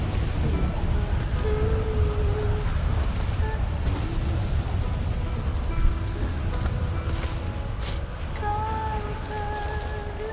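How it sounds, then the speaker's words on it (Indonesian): Steady, heavy rain roars throughout with low rumbling thunder underneath in the video game GTA, a dense continuous wash with no pauses. "kilat tu bising lah weh"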